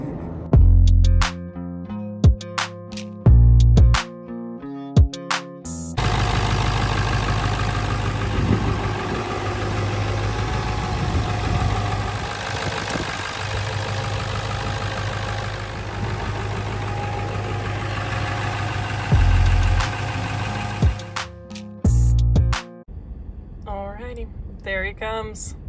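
An old-body-style Ford F250 Powerstroke diesel truck idles with a loud, steady clatter for about fifteen seconds, framed by short choppy bursts of other sound before and after.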